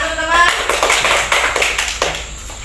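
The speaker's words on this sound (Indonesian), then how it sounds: "tepuk tangan teman-teman" Schoolchildren clapping for a classmate in a primary classroom, a brief burst of quick, close, uneven claps with a voice heard at the start.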